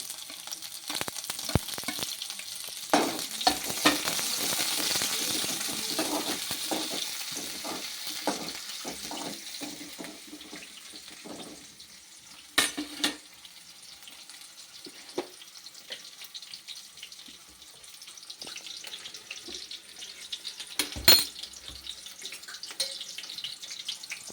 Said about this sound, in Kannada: ಫಸ್ಟ್ ಎಣ್ಣೆ ಹಾಕೋಣ ನಂತರ ಈರುಳ್ಳಿ ಹಾಕೋಣ